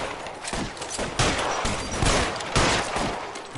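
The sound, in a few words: gunfire from guns in the video game L.A. Noire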